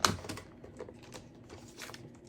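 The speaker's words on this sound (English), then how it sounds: "So let's go ahead and cut a 1 1/8 while we've got our trimmer out" A paper trimmer slices orange shimmer cardstock for a scrapbook layout: a short sharp cut at the start, then light, soft scraping and sliding sounds, close and quiet, with no talking.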